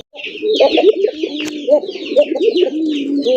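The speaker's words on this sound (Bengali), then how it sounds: "গোল্লা কবুতরই কিন্তু পোকার মতো ডাক।" Gola pigeons coo loudly and close up in repeated bubbling, throaty calls, several birds overlapping in an uneven rhythm, with higher chirps mixed in.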